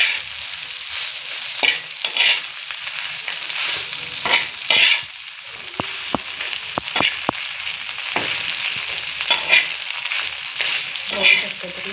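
Bombay duck fish frying in oil on a pan over a low flame gives a steady close sizzle, broken by repeated scraping and stirring strokes and a few sharp taps of the spatula.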